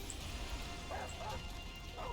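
Companion dog in the game Remnant: From the Ashes giving short yips and whimpering barks, a few brief faint calls over a constant game soundscape.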